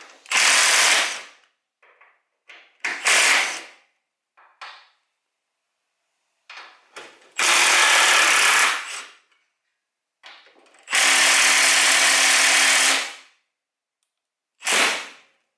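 Bolts being removed with a 14mm socket on a 2008 Nissan 350Z HR engine during spark plug replacement, heard as several short, loud bursts of a power tool separated by quiet gaps, with no talking.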